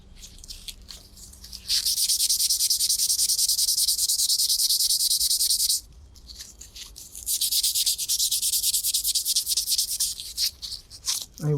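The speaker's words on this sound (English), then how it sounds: "we're just gonna sand this a little bit more with" Wood being hand-sanded with 150 grit sandpaper, a steady bright rasping hiss in two long sustained passes separated by a short pause, loud and close with no talking.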